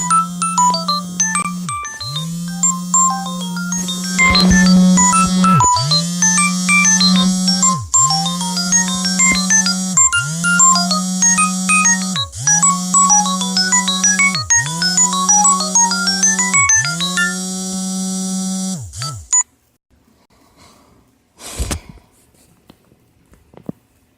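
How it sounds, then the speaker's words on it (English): A phone ringtone plays a repeating melodic chime pattern for about nineteen seconds, loud and steady in regular bursts with no talking, then cuts off and leaves a couple of faint clicks. "Had a phone call come through."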